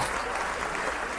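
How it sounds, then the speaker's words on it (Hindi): Audience applause at a Haryanvi comedy stage show, a steady, even wash of clapping filling the whole moment with no break and no voices above it. "बहुत जोरदार ताली।"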